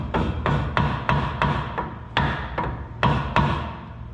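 Hammer blows on an old Mack truck during a steering box replacement: about a dozen sharp metallic strikes in an uneven rhythm, close and fairly loud over a steady background of workshop noise, with no talking.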